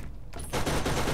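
Gunfire from the video game Borderlands starts with a few separate shots, then breaks into a loud, dense, rapid burst like a fusillade that fills the last half of the moment.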